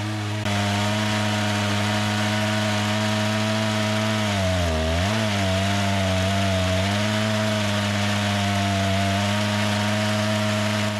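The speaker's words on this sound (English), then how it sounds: "just showing you examples of how that chainsaw sawmill works" A loud Stihl chainsaw runs steadily at full throttle preparing logs for a chainsaw sawmill, its engine pitch dipping briefly as it bites into wood, then recovering.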